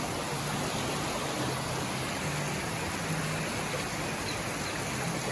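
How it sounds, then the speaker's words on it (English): A small waterfall at a cabin stay rushes in a steady, dense wash of falling water, constant and fairly loud throughout with no voices. "A little waterfall."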